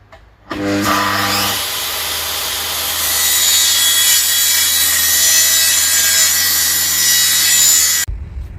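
A circular saw spins up and cuts steadily through an OSB board in a workshop for several seconds, loud and close, then stops abruptly.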